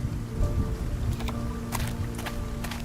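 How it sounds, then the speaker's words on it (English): Rain falling on a city in the video game World of Goo 2, a dense constant patter with low rumbling underneath and a few sharp brighter splashes. "It's always raining."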